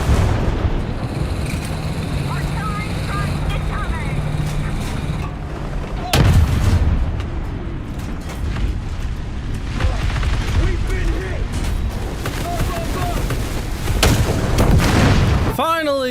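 Tank cannons fire in the War Thunder video game, several loud booming shots over an ongoing rumble of engines and battle noise, with someone talking throughout.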